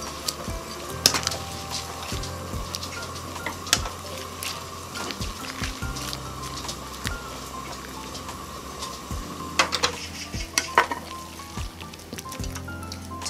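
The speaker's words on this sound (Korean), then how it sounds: "끓는 물에 콩나물을 넣고요. 한 3분 정도만 데쳐주세요." Steady bubbling and rolling of boiling water in a pot as bean sprouts blanch, with scattered clinks and knocks of cookware; no talking.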